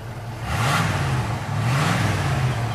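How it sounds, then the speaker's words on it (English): A 1979 Pontiac Trans Am 10th Anniversary Edition with its 400 V8, four-speed and stock exhaust with catalytic converter revs twice up from idle, each surge rising and falling, heard close with no talk. "I'll rev it up a bit, Tim."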